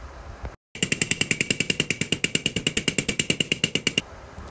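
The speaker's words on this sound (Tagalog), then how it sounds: "gumamit kayong mortilyo. Pukpukin nyo para hindi makita yung white na part dyan" Rapid, evenly spaced metallic hammering, around two dozen sharp ringing strikes in about three seconds, close and loud, as parts of a boltless steel rack are pounded together with a mallet.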